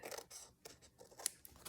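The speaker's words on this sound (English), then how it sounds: "I'm gonna use my scissors on this side" Scissors snip through printed paper being trimmed for a homemade envelope, several quiet, irregular crisp cuts separated by short silences, close by.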